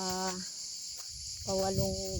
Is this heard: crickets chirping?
yes